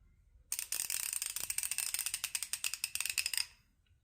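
A dirty Craftsman V-series ratchet clicks rapidly and skips teeth, giving a close, sharp burst of uneven clicking that runs for about three seconds and then stops.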